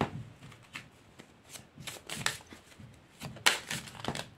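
Tarot cards shuffled by hand close up, soft repeated riffling and flicking bursts in an uneven rhythm, quiet with a sharper snap near the end.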